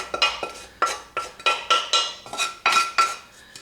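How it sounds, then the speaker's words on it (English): Bacon gets spooned into white sauce in a baking dish for Swiss macaroni cheese, a series of scraping, clinking utensil strokes against the dish in an uneven rhythm, close and clear with no talking. "now what I'm going to do is I'm going to add the bacon to the white sauce"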